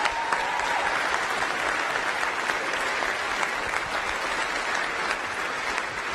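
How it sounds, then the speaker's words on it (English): An audience applauds the Artemis II astronauts at their introduction event, a dense, steady wall of clapping from a large crowd that stays loud throughout. "Please give them a round of applause."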